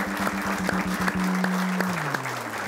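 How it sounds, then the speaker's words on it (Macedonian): A studio audience at a television show applauds with steady, dense clapping that fills the whole stretch, a low sustained musical tone running underneath. "А вие дајте аплауз за Пепперми."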